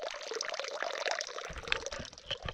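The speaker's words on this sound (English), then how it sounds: "flow from the pipe and it's clear and cold." Clear, cold water runs from a pipe at a water stop on the Continental Divide Trail, a close splashing pour with a bright gurgling trickle, its tone deepening partway through as the flow strikes a fuller surface.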